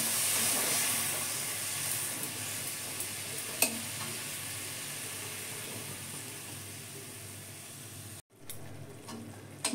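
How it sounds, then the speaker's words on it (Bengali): Spices sizzle in a pan with already fried tomatoes for a cabbage curry, a steady close hiss with a faint stir or clink partway and a brief drop near the end. "তো এবার আমি মশলাগুলো ঢেলে দেবো।"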